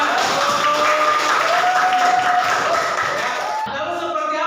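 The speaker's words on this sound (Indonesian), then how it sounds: "Oke, kasih tepuk tangan." Classroom applause: a dense, loud wash of many hands clapping at once, sustained and even for several seconds before tapering off abruptly, with faint voices mixed in.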